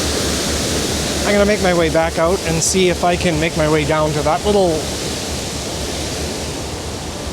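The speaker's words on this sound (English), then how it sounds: "sure a raging torrent today" Steady loud rushing water from a river torrent at Mike Falls, a constant broadband roar throughout, with someone talking over it in the middle.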